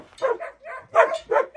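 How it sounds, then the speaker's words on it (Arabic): A dog at a trainer's kennel gives a quick series of short yelping barks and whimpers, close and fairly loud, about five bursts in under two seconds. "الأصعب اللي هي رح ندرب هذا الكلب."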